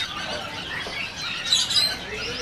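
Birds at a bird market, with cucak ijo among them, heard as shrill squawks and squealing chirps that overlap at close range. Sharper, brighter calls come in the middle.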